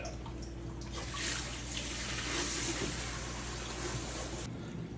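Water runs into a saltwater coral farm tank during a small water change, a steady gushing and splashing stream that swells in the middle and then cuts off abruptly near the end.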